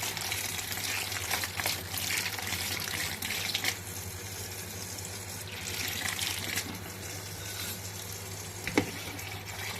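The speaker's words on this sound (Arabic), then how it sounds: "هنغسلها بقى بالمية الباردة من الحنفية علشان السوا بتاعها مينزلش." Cold tap water runs steadily over freshly boiled okra in a kitchen sink, a continuous close splashing rush that stays strong throughout, with a brief clink near the end.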